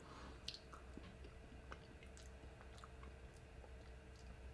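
Someone eats mashed potatoes with gravy during a fried chicken meal from Church's Chicken, making faint, close, soft squishy chewing sounds over a quiet hum, with no speech.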